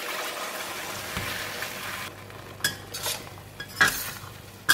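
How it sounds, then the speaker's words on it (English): Freshly made Thai sour curry paste fries in leftover oil in a pan, a steady close sizzle that thins out midway, then gives way to clinks and scrapes of a utensil stirring against the pan. "So in the same pan, I left some oil in there, and I'm going to pour in the curry paste that we just made."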